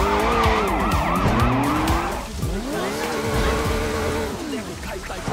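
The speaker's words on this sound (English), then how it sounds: "By holding the E-brake, spacebar, cars can do donuts and pivot on the spot." A car in the Sleeping Dogs video game spins donuts with the handbrake held, tires squealing in long looping wails over a steady engine drone that runs the whole time.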